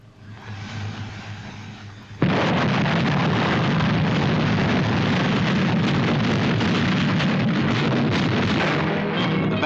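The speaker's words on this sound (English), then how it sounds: "then into the attack with massed artillery at Alamein" Massed artillery fire at the Battle of Alamein in an old newsreel, a sudden loud roar of continuous booming bombardment that holds steady after a quieter opening.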